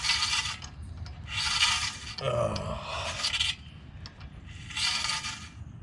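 Parking brake shoes scrape inside the wheel drum of a Mercedes W124 as the wheel is turned by hand, giving repeated loud rasping rubs in rhythmic bursts with small metallic clicks and a low hum between them.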